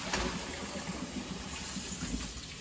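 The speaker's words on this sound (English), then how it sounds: "run a little bit of cool water over it, and dump your potatoes into the strainer" Cool water streaming from a kitchen tap into a strainer of potatoes over the sink, a steady soft splashing hiss with faint clatter, alone and fairly quiet.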